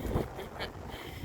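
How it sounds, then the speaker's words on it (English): Wind gusts across open water beside a boat off Panama City Beach, Florida, a steady broadband rush into the microphone with a stronger low buffet near the start and no talk. "It is so windy over here."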